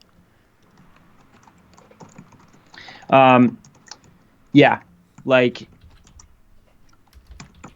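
Faint clicks of typing on a computer keyboard tick in the background while someone speaks a few short words over them.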